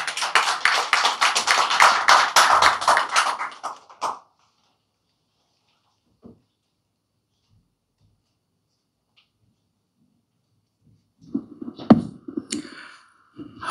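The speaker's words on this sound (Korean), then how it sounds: "힘찬 박수 부탁드립니다." Applause from the audience at a press conference at a church greets an elderly pastor, a burst of brisk clapping that fades out after about four seconds, followed by near silence and then faint movement and murmur.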